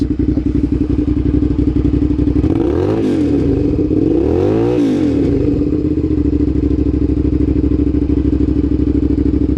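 A Suzuki SV650S motorcycle with its exhaust cut off idles with a throaty, choppy rumble, then revs up sharply twice in quick succession before settling back to a loud idle.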